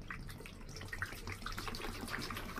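Water poured from a container into a larger vessel while mixing a five-liter batch of homemade floor and bathroom disinfectant, a steady close gush with no talk.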